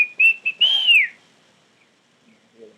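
A kiskadee bird calls nearby with a few short whistled notes followed by a longer rising-falling whistle, then quiet.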